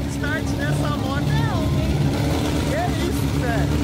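A BMW S1000RR sportbike idles steadily as it warms up, its engine giving a constant low drone close by while people chat over it.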